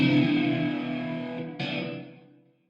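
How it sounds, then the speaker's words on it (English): A guitar-like instrument plays a sustained chord drenched in delay, reverb and modulation, a second strummed note entering midway before the wet, shimmering tail fades out. "the sound seems remarkably indirect due to the delay, reverb, and modulation"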